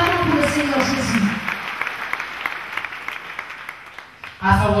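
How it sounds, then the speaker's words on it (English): A church congregation claps together in a steady, dense patter of applause lasting several seconds, with a preacher's voice heard over it at the start and again at the end. "Clap for Jesus Christ."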